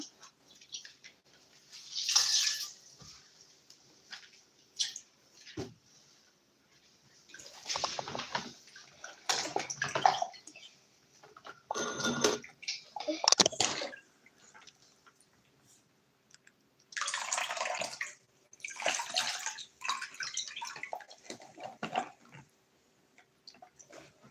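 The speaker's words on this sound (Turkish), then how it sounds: "Ama bak buraları hep su akıyor." Water runs and splashes in bursts in a toy foam pool, with intermittent sloshing and trickling at close range and short quiet gaps between pours.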